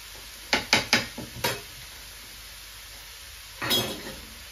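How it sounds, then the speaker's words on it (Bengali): Diced potatoes tipped into a biryani pot in a kitchen, giving a quick run of four or five sharp clattering, sizzling hits close by. After a short pause comes one longer, softer splash of frying. "এখন আলুটা ঢেলে দিই, ছোট ছোট করে আলুও দিলাম"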